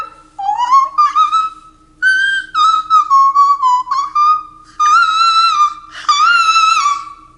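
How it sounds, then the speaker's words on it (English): Clear, close whistling of a wavering tune in several sustained phrases, with brief breaths between them. "I can whistle it."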